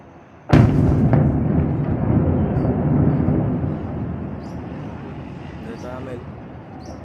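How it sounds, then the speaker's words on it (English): A sudden loud blast, then a long rumbling roar that slowly fades, like a distant explosion echoing outdoors over Caracas, Venezuela. "multiple explosions have been reported in Caracas, the Venezuelan capital"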